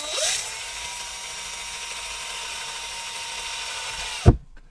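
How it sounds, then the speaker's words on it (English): A power drill whines steadily as it bores holes into an RC crawler (FCX10 K5) to mount a fairlead, one continuous high-pitched run close up that ends with a short clunk. "And then here we're just gonna drill some holes."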